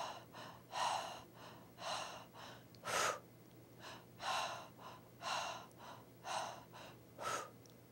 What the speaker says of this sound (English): then it's 3 shallow breaths, and you blow.